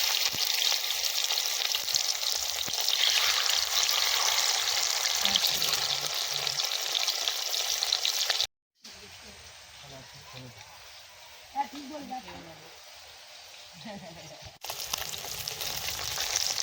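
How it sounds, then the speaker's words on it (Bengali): Big bhangan fish frying in a kadai at an outdoor winter picnic, a steady broadband sizzle that drops out briefly mid-clip, then softer crackle returns with scattered voices and movement nearby. "তো আমরা এবার মাছগুলো ভেজে নিই এই কোঁড়াতে"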